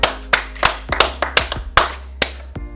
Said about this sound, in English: we're going to give it a round of applause